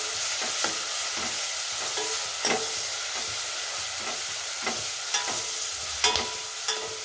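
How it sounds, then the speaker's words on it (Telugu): Spinach and broad beans frying together for a curry, a steady close sizzle with repeated scrapes and clinks of a spatula stirring through the pan, no voices. "మరి ఒక కప్పు పాలకూర ఈ ఫ్రైలో వేసుకోవాలి వేసుకొని ఒక 2 మినిట్స్ దగ్గరికి వచ్చే వరకు ఫ్రై చేసుకొని"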